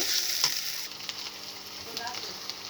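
Prawns frying in hot oil in a pan, a close, steady hiss and crackle of sizzling that runs the whole time with small spits and pops, no voices over it.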